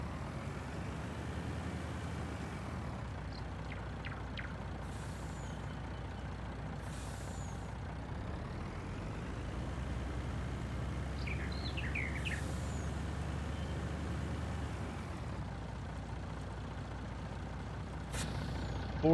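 A Mack truck in Farming Simulator 19 idles with a steady low engine rumble while short air brake hisses burst out intermittently, alongside faint chirps.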